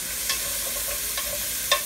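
Vegetables caramelizing on high heat in a pan for brisket, a steady sizzle and frying hiss with a few soft stirring scrapes, close and even throughout.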